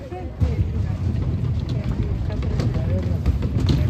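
A crowd of riders stomps their feet in a queue room for the Despicable Me Minion Mayhem ride at Universal Studios Hollywood, a rumbling, irregular thudding that stays steady throughout with voices mixed in.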